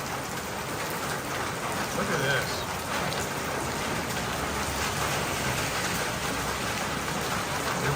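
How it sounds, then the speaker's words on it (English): Heavy rain pours down at night in Taiwan, a dense, loud, continuous roar that fills the whole stretch while someone speaks briefly over it. "It is coming down. Coming down like crazy."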